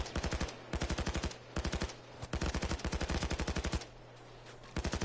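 Rapid automatic gunfire from a weapon in the video game PayDay, sustained bursts of fast evenly spaced shots with short pauses between them, loud and close with no talking.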